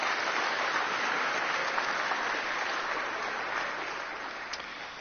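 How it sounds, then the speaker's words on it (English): Steady, dense applause from a school audience honoring graduating seniors, a continuous wash of many hands clapping that holds level and then eases slightly toward the end, with no voices on top. "Can we give our seniors one more round of applause?"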